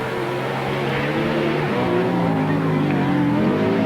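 Grasstrack sidecar outfits racing round a 1993 meeting at Stone in Oxney, engines droning steadily and continuously at moderate distance under a commentator's voice.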